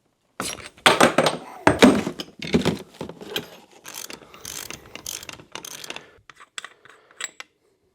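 A wrench turns off the fork balance chamber top cap on a 2017 KX450F, producing irregular close metallic clicks and clanks in uneven bursts that thin out toward the end, with no voices.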